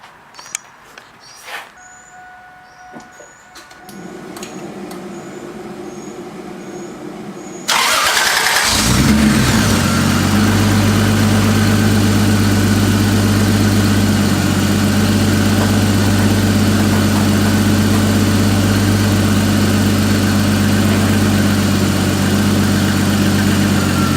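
A Toyota Supra engine cranks and catches after quiet rustling, then settles into a steady, loud idle with a deep low hum that runs unbroken to the end, heard close with no talk.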